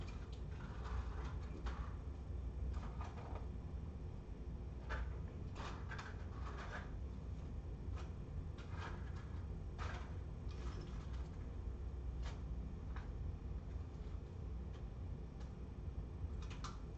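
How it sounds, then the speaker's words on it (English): Someone rummages through a household junk drawer, producing faint, scattered clicks, taps and small clattering knocks of loose objects at irregular intervals over a quiet background. "I'm even looking through my junk drawer."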